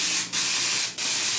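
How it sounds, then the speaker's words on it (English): A hand pump bottle of Detox spray is used on hair in a stuffy room, giving two sustained hissing bursts with a short break between them, close and loud. "So I'm gonna use that Detox and I'm just gonna spray"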